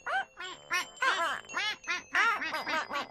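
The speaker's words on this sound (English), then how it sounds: "There's lots of little ducklings." Cartoon ducklings in a pond quack in a quick series of bright, nasal, honking calls, close and loud, rising and falling in short bursts.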